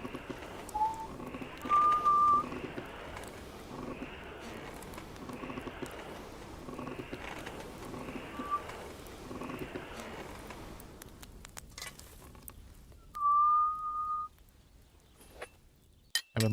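Short whistled tune phrases in Kingdom Come Deliverance 2, a couple of brief bright notes drifting over a steady bed of in-game ambience with soft clip-clop and clinking.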